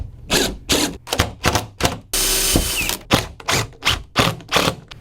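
A power drill driving screws while building bunk beds in a Van Hool bus conversion whirs in short repeated bursts, about a dozen quick pulses, with one longer steady run in the middle, close and loud.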